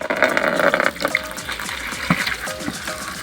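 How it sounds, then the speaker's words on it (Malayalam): Running water pours from a tap into a bucket while doing laundry, a steady splashing stream with a few clinks and knocks of handling. "വെള്ളം പിടിക്കാം"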